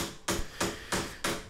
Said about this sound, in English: Just with this hammering process, I was able to get the metal almost perfectly flush with the wood